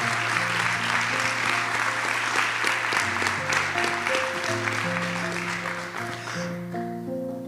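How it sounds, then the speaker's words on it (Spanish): Church congregation applauding during a Spanish-language sermon, steady dense clapping over sustained organ or keyboard chords that shift in pitch, lasting several seconds before the clapping thins near the end. "Dale un aplauso al Señor"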